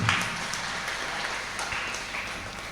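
An audience applauds at a goodwill forum gathering in Jeppu, Mangaluru, a steady, moderately loud wash of clapping that holds evenly through the whole stretch with no voices over it.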